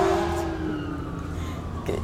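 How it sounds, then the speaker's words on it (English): A siren wails at a distance, its tone sliding downward over a low background rumble. "That was a cool siren."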